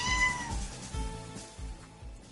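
A domestic cat meows several times in a row, close and fairly clear, with a drawn-out opening call followed by shorter repeated cries.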